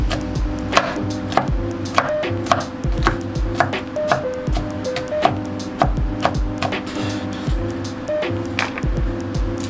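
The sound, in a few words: rough chopping food with a knife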